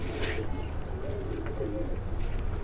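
Chandne breed pigeons coo in a low, steady murmur close by, with soft overlapping calls over a constant background hum.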